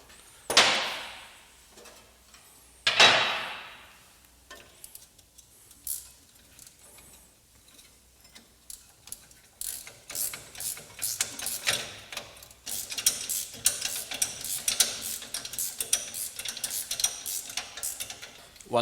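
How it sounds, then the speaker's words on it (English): Nuts on a Land Rover Discovery coil spring retainer are tightened with a ratchet: two sharp clanks at first, then a long run of quick metallic clicks in bursts, close and fairly quiet. "start the nuts by hand, and then tighten everything up"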